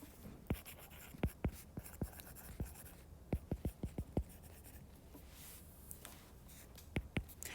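A pen scratches out a written math statement in a quiet room, with short, distinct strokes coming in uneven bursts, some clustered quickly together and others spaced apart, close and fairly soft.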